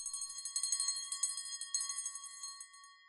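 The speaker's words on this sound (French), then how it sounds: "Au loin, une cloche résonne dans la nuit." A bell rings at night, a rapid, steady run of bright metallic tinkling strikes, fairly faint and alone, easing off toward the end.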